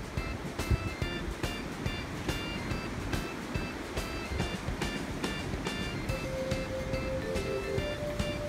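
Ocean waves wash onto a beach in Cancun, a steady, soft surf rolling in with light wind noise and no talking over it.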